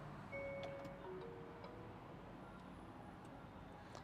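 Hyundai IONIQ 5 lights-on warning sound, faint repeating tonal beeps and ticks inside the car cabin, soft against a quiet background hum.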